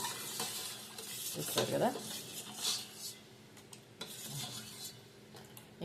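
A spoon stirs and scrapes through food in a metal pan as spices are mixed in, with clinks and a light sizzle throughout and a voice talking briefly over it.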